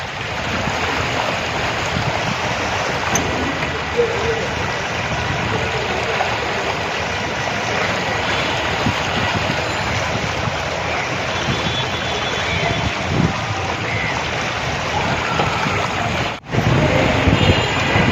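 Floodwater rushes through the streets of Dhaka city, a continuous loud wash of moving water with a windy roar, briefly cutting out near the end.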